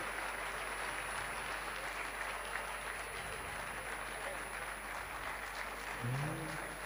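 An audience at a Jain religious gathering in Jabalpur applauds, a dense, steady wash of clapping that holds evenly throughout at moderate distance.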